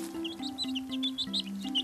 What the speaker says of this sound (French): Chaque jour, Akili rend visite à Maman Poule et ses 5 poussins